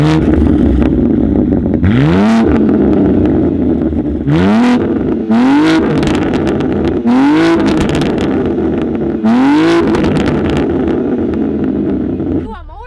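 A BMW G87 M2 with an aftermarket exhaust revs hard several times in close succession, each sharp climb in pitch dropping back to a loud, rumbling idle that never goes quiet.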